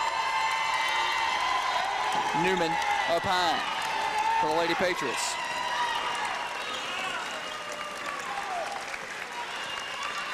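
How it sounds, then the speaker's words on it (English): Sustained applause and cheering fill a high school girls' basketball gym as the Coffee County home crowd gets into the game, with sneaker squeaks on the court and a commentator talking over the noise. "The Coffee County crowd getting into it"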